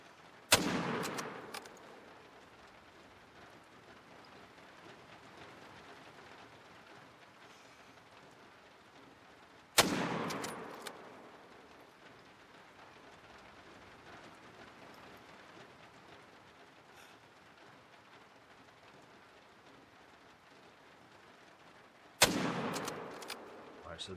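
Three loud single shots from an M1 Iwaniec semi-automatic .30-06 rifle in theHunter: Call of the Wild, each a sharp crack followed by a long rolling echo, spaced several seconds apart over quiet outdoor ambience.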